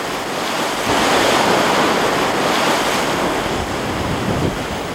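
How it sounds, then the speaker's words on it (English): Heavy sea waves crash over a seawall onto a coastal road during a 1986 storm at Newcastle, a loud continuous roar of surf and spray with wind buffeting, surging from about one second onward. "waves came crashing over the seawall and onto the road"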